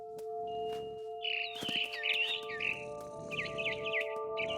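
A barn swallow chirps in the game What Remains of Edith Finch, a string of bright, fluttering tweets close by over a steady low ambient hum, with no talking.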